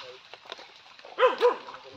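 A dog gives two quick barks close by, following a stretch of faint background sounds.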